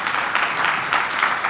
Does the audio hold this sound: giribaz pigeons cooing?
no